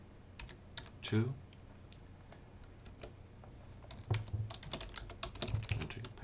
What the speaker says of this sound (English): So we enter sudo apt-get install Apache